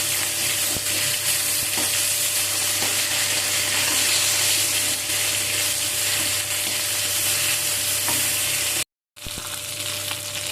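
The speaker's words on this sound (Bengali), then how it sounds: "মাছগুলোর এক সাইড ভাজা হয়ে গিয়েছে, তো উল্টে দিচ্ছি মাছগুলোকে।" Fish fry in hot oil in a steady, loud, close sizzle with a few soft clicks as pieces are turned, cut briefly by a moment of silence near the end.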